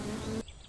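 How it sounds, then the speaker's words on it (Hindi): Flies buzz in a steady, close, continuous drone around a sleeping man's face under a tree in a dense forest, the sound cutting off abruptly partway through. "रामलाल के मुंह पर मक्खियां भिनभिनाई जा रही थीं"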